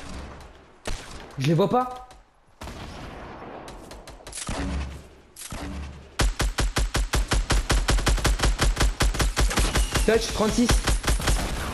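Rapid automatic gunfire in a video game shooter match, starting with scattered single shots and swelling into a long, steady burst of loud repeated rounds, with players talking over it.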